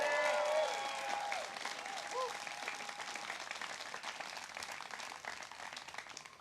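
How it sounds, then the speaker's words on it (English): An outdoor crowd at the Polk County Steak Fry in Iowa applauds Democratic candidates, loud at first and then thinning to softer scattered clapping, with faint voices underneath. "Let's give them all a round of applause."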